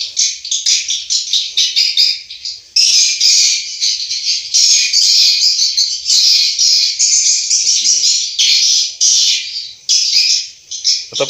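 Recorded swiftlet call played through a speaker inside a swiftlet house, dense repeated high twittering chirps in rapid continuous bursts, loud and close.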